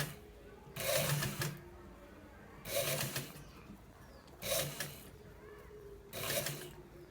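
Sewing machine stitching a trending senator-style front pocket: four separate bursts of rapid mechanical whirring, each lasting roughly a second, with quiet pauses between them at a moderate, close distance.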